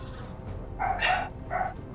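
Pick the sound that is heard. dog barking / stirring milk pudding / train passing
dog barking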